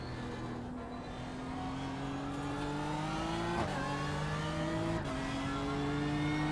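A GT3 race car in iRacing at Hockenheim accelerates hard, its engine note climbing steadily with two quick upshifts, loud and continuous from the cockpit.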